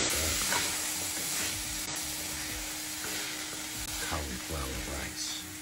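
Pescatarian paella with cauliflower rice sizzling and frying in a pan while being stirred, a continuous loud hiss with intermittent scraping strokes throughout.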